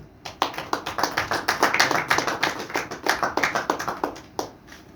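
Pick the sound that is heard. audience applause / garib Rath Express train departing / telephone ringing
audience applause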